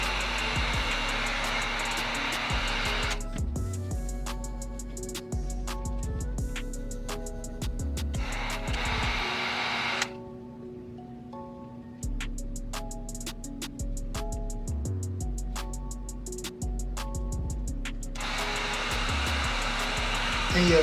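A heat gun blows with a steady loud whoosh while it warms a Gunskins skin onto a Glock 19 frame, cutting out briefly midway and restarting, with quiet clicks and handling noises in between.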